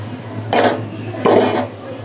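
A spoon stirs haleem made with Eid sacrifice meat in a metal cooking pot, producing two distinct clanking scrapes against the pot over a low steady hum, with no talking.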